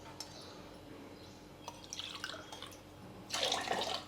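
Water is poured into a bowl of eggs and oil, heard as quiet trickles and splashes in two short bursts, the second louder and closer, over a faint background.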